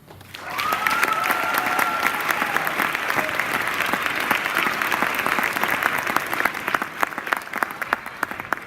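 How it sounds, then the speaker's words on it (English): A school audience at a Black History celebration breaks into applause for a poet, clapping swelling quickly and holding steady, with a few scattered whoops early on. "Ladies and gentlemen, please join us and give a huge round of applause for Mr. Kwabanon Anton Nixon."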